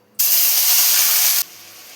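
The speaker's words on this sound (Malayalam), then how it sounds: "ഇതിലോട്ട് സവാള ഇട്ട് കൊടുക്കാം." Chopped onions hit hot coconut oil in a pan with a sudden loud, steady hiss lasting over a second, then dropping to a quieter continuous sizzle.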